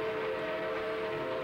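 A steam locomotive whistle sounds as one steady, loud sustained tone with strong harmonics, held throughout without a break, alone with no talking.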